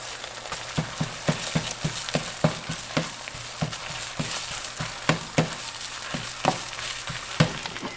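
Reconstituted freeze-dried raw eggs, mixed thick at a 1 to 2 ratio, sizzle in a pan with a steady frying hiss broken by sharp regular scraping taps, close and moderately loud.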